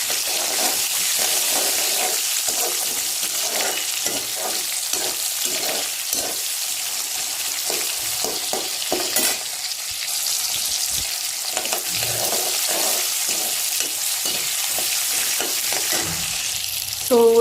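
Tomato sautéing in a pan for vermicelli upma gives a steady, close bright sizzle and crackle, broken by soft clinks and scrapes of stirring throughout.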